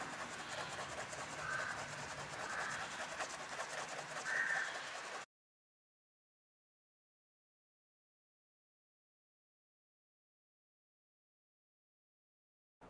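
A fingernail scrapes across the printed label of an engine oil bottle, making a soft, close rubbing rasp for about five seconds before silence.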